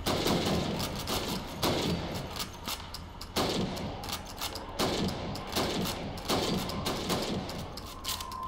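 Rifle shots at helmet targets in Call of Duty 2, a sharp crack roughly every second in a steady series of about a dozen, each with a short ringing tail over faint background ambience.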